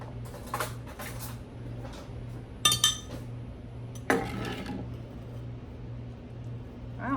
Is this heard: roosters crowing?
no